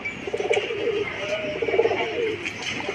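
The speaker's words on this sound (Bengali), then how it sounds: "কবুতরের বাচ্চা, এই দেখেন" Pigeon chicks in a coop make soft, repeated cooing calls at close range, with a faint steady background hum and no talk over them.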